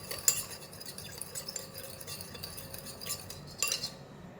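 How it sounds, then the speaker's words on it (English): A spoon stirs salt and sugar into apple cider vinegar in a bowl for pickling green chillies, giving quiet clinks and taps against the container, with a few sharper chinks near the start and end. "Just continue to mix until the sugar and salt is dissolved"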